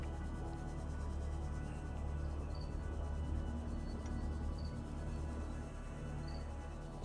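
Crickets kept indoors chirp steadily in the background of a Subnautica gaming session, with a faint, continuous insect drone running the whole time at low level and no talking.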